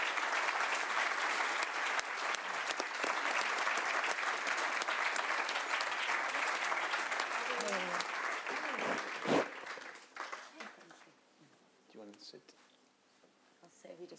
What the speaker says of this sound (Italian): it's really important that we applaud her as well